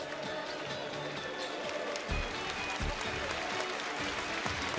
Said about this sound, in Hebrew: ווצ'יצה עכשיו מקבל מחיאות מכל כפיים מכל הקהל